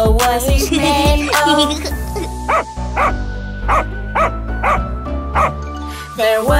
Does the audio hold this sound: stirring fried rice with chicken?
no